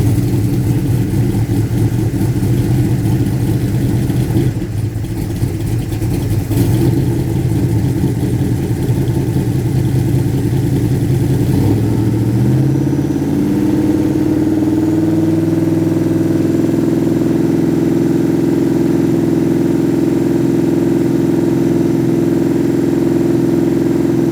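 A tuned carbureted engine cranks and rumbles loudly, then catches and settles into a steady, throbbing idle, heard close and alone throughout.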